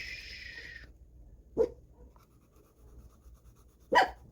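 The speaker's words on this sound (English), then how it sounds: "No barking." A dog gives two short, sharp barks a couple of seconds apart, with a quieter high whine or whistle at the start over a low background rumble.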